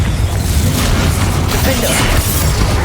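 The Confringo fire spell blasts in Hogwarts Legacy, a loud, continuous booming rumble with crackling bursts and mechanical clatter, dense and close throughout.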